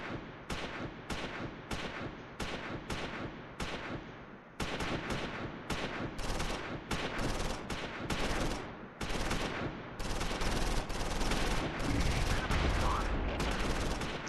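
Rifle fire in the Close Combat IV wargame, dense bursts of sharp shots and rattling volleys repeating in quick clusters, loud and continuous with brief gaps between salvos.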